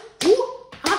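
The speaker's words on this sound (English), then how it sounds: "Can you pat your knees?" Two sharp patting slaps of hands on knees, spaced about half a second apart, each a crisp broadband hit, with a short toy-like tone sounding between them.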